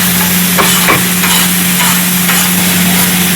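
Kothu parotta ingredients sautéing in hot oil with cabbage and capsicum, a loud continuous sizzle with several sharp spatula clanks against the pan and a low steady hum underneath, no talking.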